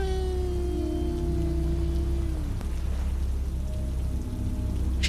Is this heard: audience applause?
no